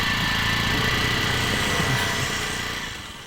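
A motorcycle engine runs at a steady idle, a continuous buzzing drone that holds evenly before easing slightly at the end, with no talk.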